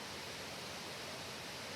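A waterfall and river below an onsen terrace give a steady, even hiss of rushing water, soft and distant, with no other sounds.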